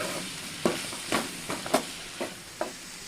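Ivy gourd frying in a pan with chili powder and pepper powder, stirred with a spoon in a series of six or so distinct scraping strokes over a soft sizzle, no talking.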